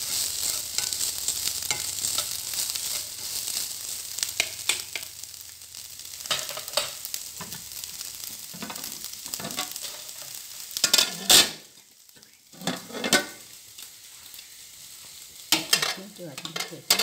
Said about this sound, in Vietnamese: mình xào lại một chút cho nó nóng